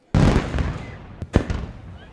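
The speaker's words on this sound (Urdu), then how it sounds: "مسلح افواج کی مشترکہ پریڈ میں قومی علم کو 86 فیلڈ آرٹلری رجمنٹ نے 31 توپوں کی سلامی دی" An 86 Field Artillery Regiment gun fires a round of the 31-gun salute at the Pakistan Day parade: a loud, sudden boom that rolls off, followed by a second sharp report about a second later, over crowd and ambient noise.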